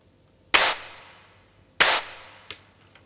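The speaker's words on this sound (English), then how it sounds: "And you pair it with those claps," Layered electronic claps, a reverb-washed noisy snare-style clap paired with a second clap, sound twice in a slow beat, each a loud bright smack with a long tail, then a smaller clap accent near the end.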